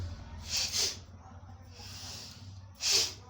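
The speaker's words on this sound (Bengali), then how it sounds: "নাক দিয়ে বের করুন, যত আপদ পড়াতে বেরিয়ে যাবে" Forceful exhales through the nose during a breathing exercise, with three sharp, close puffs spaced over a few seconds and quiet breathing between them.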